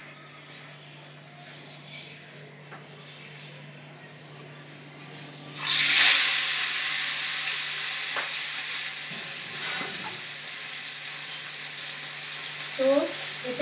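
Moong dal frying with a bay leaf in a pan: after quiet kitchen sounds, a loud burst of sizzling hiss erupts midway, then settles into a steadily fading crackle with faint stirring.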